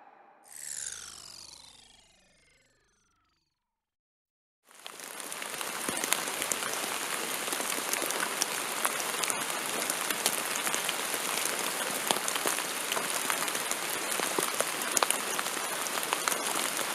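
Steady rain falls during a backpacking and cabin trip, a dense, even hiss that starts abruptly after a few seconds of near quiet and holds loud and unbroken to the end.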